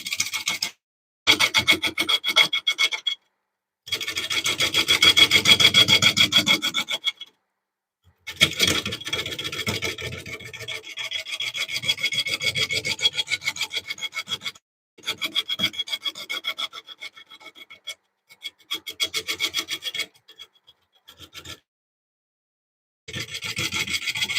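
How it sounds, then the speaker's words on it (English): A cypress wood bowl trimmed on a lathe gives off close, raspy scraping in repeated bursts of several seconds each, broken by brief silences as the tool lifts away. "a lot of you just like the sound of wood being trimmed on a lathe"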